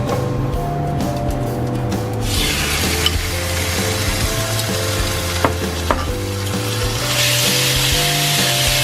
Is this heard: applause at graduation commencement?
no